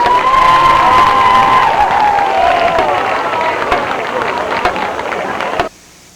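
A high school football stadium crowd at a 2002 Fort Frye vs Monroe Central game cheers loudly and continuously for the marching band, a dense roar of voices that cuts off abruptly near the end.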